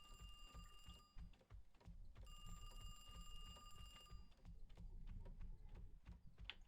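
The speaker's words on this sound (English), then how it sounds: "phone's ringing already and everything" An office telephone rings in the video game Heartworm, two electronic trilling rings separated by a short gap, over faint background noise and soft clicks.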